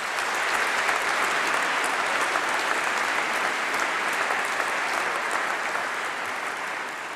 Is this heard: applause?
yes